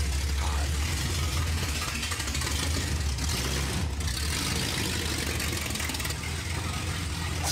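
A Dodge Charger big block engine running after sitting for 35 years makes a steady low rumbling idle with a dense rough texture, moderately loud and continuous throughout.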